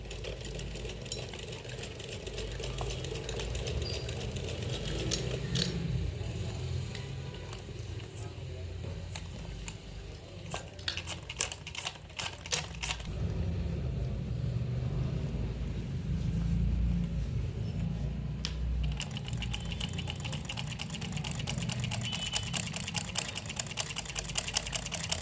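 A sewing machine stitches a zipper onto trousers in bursts of rattling mechanical whirring, close and moderately loud, with pauses and clicks between runs while a person talks intermittently over it.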